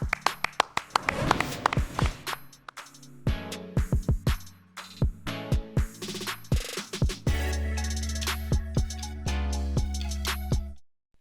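Sharp hand claps ring out repeatedly in an uneven rhythm, close and loud, mixed with other percussive hits and a low tone near the end.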